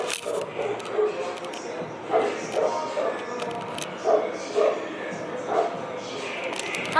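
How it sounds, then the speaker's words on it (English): A dog barks at night in bursts of yips and woofs every second or so, with loud party noise from downstairs and a voice talking over it. "There's a dog that's barking the other night and it's still barking now."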